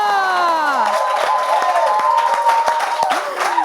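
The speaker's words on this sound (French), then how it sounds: "On peut applaudir très fort." A crowd at a Bible quiz final claps and cheers loudly, with rising, gliding whoops and shouts over dense applause that holds steady through the clip.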